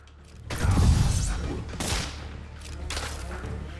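Heavy enemies fire machine guns in the Spider-Man PS4 video game, a loud dense burst of gunfire with booming low end, then a fainter second burst and lingering mechanical clatter.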